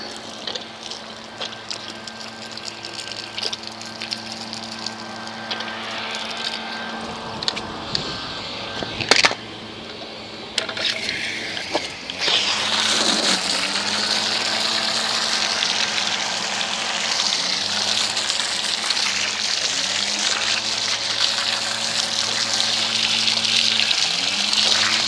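Water sprays and gushes steadily over a foam-covered dirt bike, a continuous rinse starting after a few seconds of lower hiss and growing louder and fuller from about twelve seconds on, with a pump-like drone beneath.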